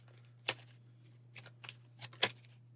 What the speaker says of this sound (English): Go ahead and give our deck a shuffle.